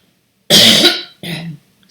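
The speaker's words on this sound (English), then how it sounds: "excuse my cough" Two sharp coughs break through a quiet sewing session while someone attaches a seam guide on a sewing machine, the first long and loud, the second shorter after a brief pause.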